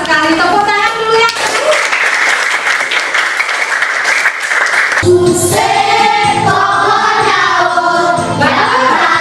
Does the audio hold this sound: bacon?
no